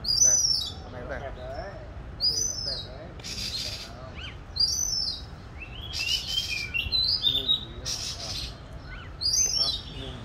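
An oriental magpie-robin sings in bursts of high, whistled and warbling phrases, near and clear, repeated across the clip with short pauses between them over a low background hum.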